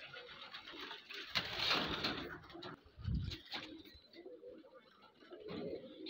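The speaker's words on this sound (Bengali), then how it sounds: "দেখতে পারতেছেন এখানে বিশাল আকারের একটি কবুতরের খামার রয়েছে" Pigeons at a large pigeon farm coo softly in low, throaty bursts, with faint rustling and fluttering around them in a quiet space.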